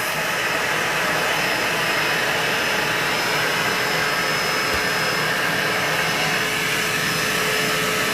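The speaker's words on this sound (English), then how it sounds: "This is our 2-in-1 styling brush, drying and styling brush." A 2-in-1 hair drying and styling brush runs steadily at close range, giving a loud, even blowing whir that holds without a break for the whole stretch, with no talking over it.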